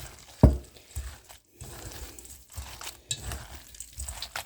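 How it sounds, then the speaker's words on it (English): Meatball mixture with egg and breading squelches and squishes as it is mixed by hand, a soft wet thump near the start followed by irregular close, quiet sticky kneading sounds. "I'm going to get my hands in here because it's the best way to mix everything"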